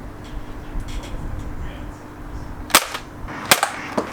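Two sharp gunshots crack about a second apart during target practice at cans outdoors, over steady background noise with faint voices.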